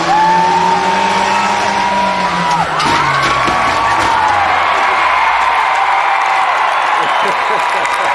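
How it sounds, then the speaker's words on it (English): A rollover car at a demolition derby revs loudly, its engine pitch sliding and whining while a crowd cheers and a voice booms over a loudspeaker. "In a specially scientifically designed rollover car."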